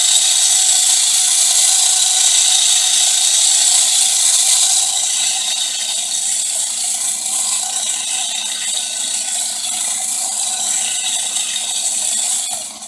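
A remote controlled pin walker robot drone runs its crank-driven legs, giving off a steady high mechanical whir that drops slightly in level partway through and continues until it cuts off at the end.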